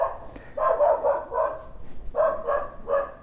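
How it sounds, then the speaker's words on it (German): A dog barks in repeated loud, close bursts, roughly five clusters of sharp barks with brief pauses between them. "wir haben Hunde, die bellen"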